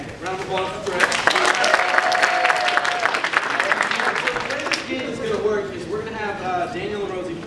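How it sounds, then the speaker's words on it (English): An audience at an improv comedy show gives a round of applause that swells loudly and then tapers off, with talking and a sustained tonal voice mixed in over the clapping. "Round of applause for Trey."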